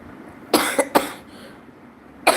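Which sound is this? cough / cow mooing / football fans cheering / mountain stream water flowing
cough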